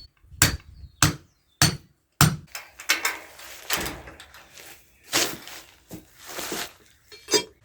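A metal lamp post section being driven into the ground to hold rebar, sharp hammer blows in a quick series of loud, close impacts followed by rougher scraping knocks.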